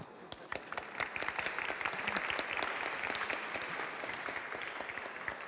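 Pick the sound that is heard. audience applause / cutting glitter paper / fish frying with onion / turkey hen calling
audience applause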